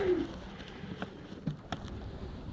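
A breeding racing pigeon gives soft, low coos, faint and close, with a few brief rhythmic calls against a quiet loft background.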